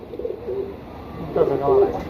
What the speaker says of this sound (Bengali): আজকে দুইটা তিনটা কবুতর নতুন ছাড়ছে